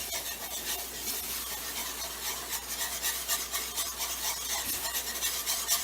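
A utensil scrapes steadily through flour gravy in a pan for cubed steak, making a soft continuous rasping and rubbing with no voices.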